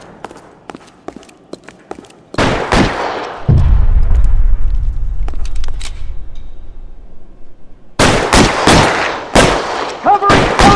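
Gunfire in the detective game L.A. Noire during a shootout: sharp close single shots and loud heavy bursts with a rumbling blast in between, alternating with quieter stretches.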